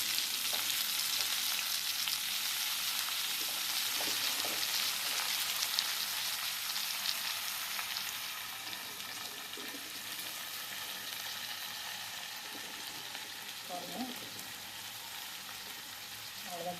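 Onion and amaranth greens frying in a pan, a close, steady sizzle like light rain, louder at first and then easing, with occasional scraping stirs toward the end.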